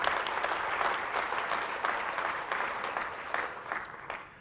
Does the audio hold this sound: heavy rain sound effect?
no